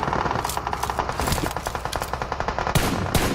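Rapid gunfire rings out in a video game shootout, with bursts of sharp automatic shots in quick rhythmic strings, loud and close, broken by short pauses and ending in a couple of heavier blasts.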